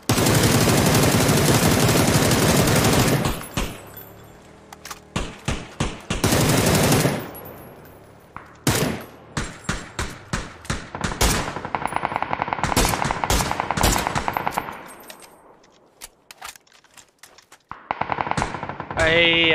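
Loud automatic gunfire rattles through a shooter video game in long sustained bursts and clipped single shots, broken by short silent gaps, with no talking.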